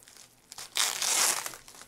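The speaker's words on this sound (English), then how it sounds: "let's see if we can just rip this." Tape ripped off the cardboard box of a Voglesong parking meter: a close, loud crackling tear that swells and holds for about a second before fading into soft rustling.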